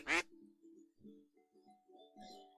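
A duck quacking in the Pre Odyssey game: one sharp, loud quack at the start, then softer, lower honking and murmuring sounds that fade in and out.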